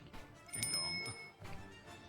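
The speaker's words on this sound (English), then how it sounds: "the skeleton hears the tolling of the bell" A bell sound effect rings out once with a bright, high metallic tone that lingers about a second before fading under soft background noise.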